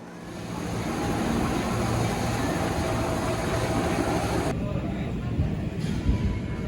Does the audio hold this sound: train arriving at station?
yes